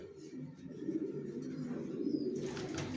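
Young racing pigeons coo steadily in a low, continuous murmur from a loft close by, with a brighter chirping flutter toward the end and no speech.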